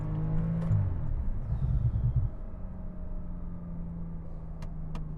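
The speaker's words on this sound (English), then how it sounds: "I hope y'all can hear that exhaust the way I can hear it." A Porsche 911 Turbo exhaust droning while driving: a steady, low engine rumble from inside the car, swelling briefly early on and then settling into an even cruise hum with little else over it.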